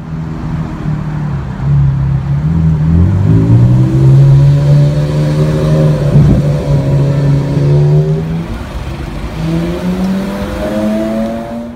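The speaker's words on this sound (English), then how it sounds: "I was lucky enough to film a CGT on the road" A European-spec Porsche Carrera GT drives on a public road. Its engine is loud and near, with a rising, revving note that climbs through gear changes and then settles to a steadier drone, and no voices are heard.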